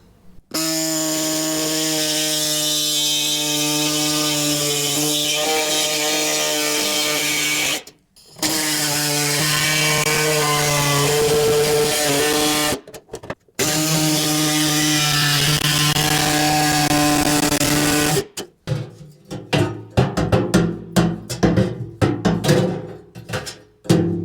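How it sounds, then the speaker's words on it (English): Air saw cutting up a Ford Fiesta MK1 steel fuel tank, heard as long loud buzzing runs broken by brief pauses, then choppier, faltering bursts toward the end. "So I'm going to get the air saw out now and chop that up."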